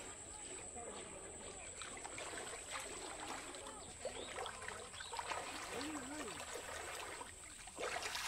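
Clear, shallow water trickles and splashes at a resort pool or stream in San Narciso, Zambales, a steady close wash with people talking and calling out over it.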